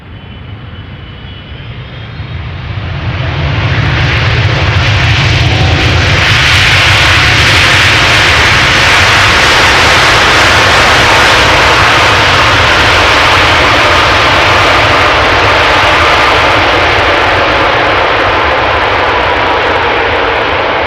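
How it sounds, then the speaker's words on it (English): A landing airliner at Amsterdam Schiphol with thrust reversers engaged builds from a distant roar into a loud, sustained broadband jet rumble that dominates for the rest of the clip. "Will it use the reversers and will it get loud?"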